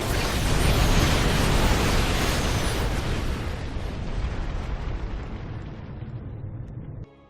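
Explosions and weapons fire in the StarCraft 2 video game, one loud, continuous roaring blast wash that sustains, then gradually fades and thins before cutting off abruptly, with no talking.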